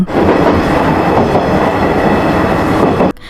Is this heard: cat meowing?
no